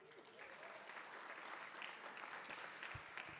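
Audience applause at an outdoor cherry blossom festival event in Washington, DC, a steady wash of many hands clapping throughout at moderate level, with no voices standing out above it.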